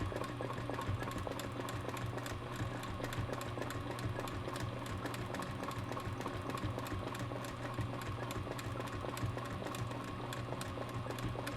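Sewing machine running steadily while sewing locking stitches, a continuous fast rhythmic mechanical whir and clatter, faint and close, with no talk.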